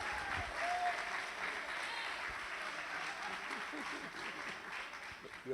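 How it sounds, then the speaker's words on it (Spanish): A youth congress audience in Argentina applauds to welcome a guest pastor from Puerto Rico, a sustained, fairly distant crowd clapping with faint voices mixed in beneath it. "Y por eso recibimos con ese aplauso a nuestro pastor de jóvenes,"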